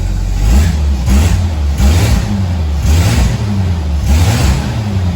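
A Jeep engine idles steadily up close, its low rumble swelling and easing in a slow repeating pulse, with no voices.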